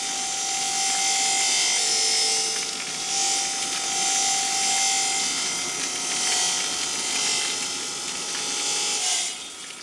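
A hand saw cuts stone mosaic tiles in a workshop making Roman-style mosaics in Mérida, Spain. Continuous rasping strokes grind along steadily with a faint whine, and no one speaks.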